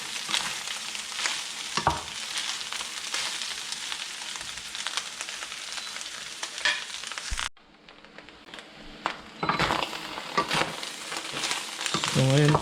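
Pork lungs, heart and liver fry for bopis in a pan, giving a steady, close sizzle and crackle that drops out briefly midway before returning.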